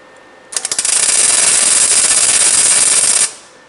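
A tack weld on the muffler of a John Deere Gator 625i utility vehicle, a loud, close crackling buzz that sputters briefly at the start and then holds steady for nearly three seconds before cutting off.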